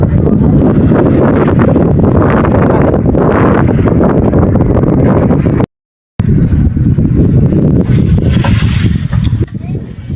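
Strong wind batters a fishing boat on the open sea in big waves, roaring steadily and loudly into the microphone and cut by a short dropout midway, with voices heard faintly under the gusts.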